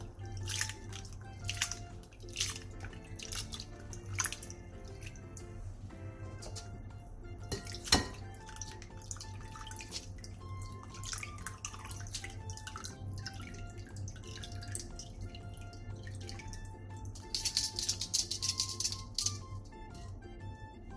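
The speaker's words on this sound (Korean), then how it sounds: "데친 꼴뚜기는 찬물에 헹궈 물기를 빼놔주세요" Baby squid, blanched and rinsed in cold water, sit draining in a kitchen, with faint scattered drips and light rattles over a quiet background.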